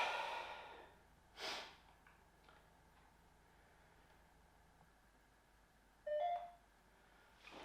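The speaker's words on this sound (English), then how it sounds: "That beeping noise, I think, is supposedly detecting EMF" Short electronic beeps from an EMF detector app sound twice, spaced several seconds apart, against a quiet room with faint breathing.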